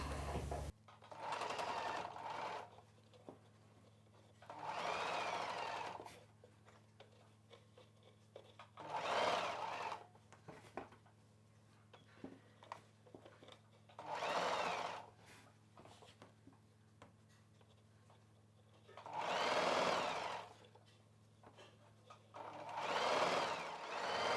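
A sewing machine stitches frills onto a lehenga lining in several separate bursts of rapid whirring and needle clatter, each lasting a couple of seconds, with quiet pauses between them and no talking.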